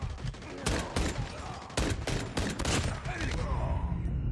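Desert Eagle pistol fire in the mobile shooter Call of Duty Mobile, loud sharp shots in irregular bursts over game noise, with a busy clatter of other gunfire throughout.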